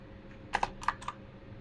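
Keystrokes on a Fantech Commander mechanical keyboard: about four or five quick clicky taps in a short burst, close and fairly quiet over a low background hum.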